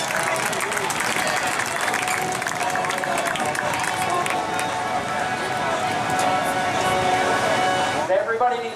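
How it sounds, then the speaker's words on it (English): Crowd applause and cheering at a Sportsman 25 stock car race at New Smyrna Speedway, steady and loud for about eight seconds under a public-address voice, fading out at the end. "Give him a round of applause, ladies and gentlemen."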